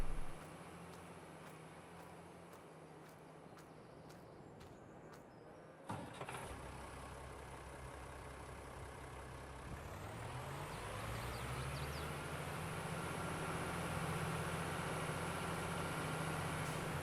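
Tractor engine idling in Farming Simulator 22, a low, steady rumble that runs quietly throughout. A sharp hiss-like burst cuts in partway through, and the engine tone then rises into a smooth higher drone before settling into a sustained hum.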